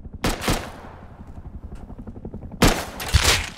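Loud in-game gunfire from the survival game Rust, with two separate sharp bursts, the first near the start and the second about two seconds later, separated by a quieter stretch of rattling background noise.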